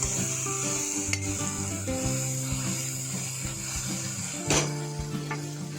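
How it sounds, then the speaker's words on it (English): A spoon mixing roasted long brinjal bharit with spices, giving soft scraping and clinking strokes in a bowl over a steady hiss, with no talking. "Mix everything with brinjals thoroughly with the spoon until the spices coat the eggplant or brinjals evenly."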